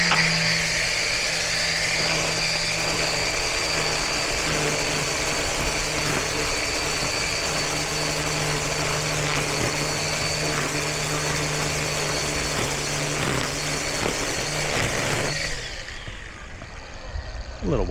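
A lawn mower engine drones steadily and loud through a pass along the front edge of a yard during edging, hedging and blowing work, then drops in level near the end as the load shifts.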